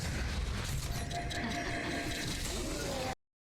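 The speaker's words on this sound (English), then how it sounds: "Pay attention to the sound that Kalari makes and how long it takes for me to teleport to a person." The character Kalari charges up and teleports in the game SMITE, a dense grinding, ratcheting mechanical whirr with metallic crunches that runs loud and unbroken for about three seconds, then cuts off abruptly.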